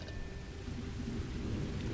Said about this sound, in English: Sounds like it's still raining